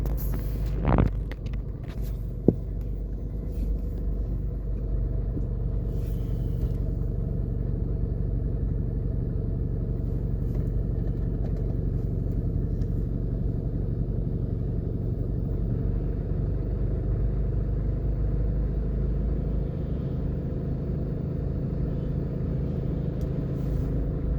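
Car driving along South Avenue in Jamaica, heard from inside as a steady low road rumble and engine drone, with a couple of sharp knocks at the start and no talking.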